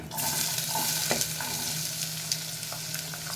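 Onions sizzle and crackle in hot oil for a home-style tomato curry, a steady close frying hiss with small pops and light stirring scrapes throughout, no voices.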